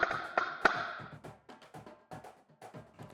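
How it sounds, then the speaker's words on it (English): A tuned marching snare drum is struck in a quick, irregular run of sharp, crisp hits, the first few loudest and ringing briefly, then lighter taps following close and alone. "the drum should sound something like this."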